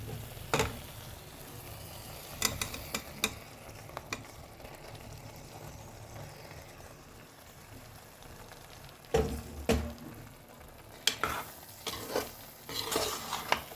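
Ridge gourd pieces fry in hot oil with a soft continuous sizzle, while a metal spoon scrapes and knocks against the pan in irregular bursts, louder near the end, and no one speaks.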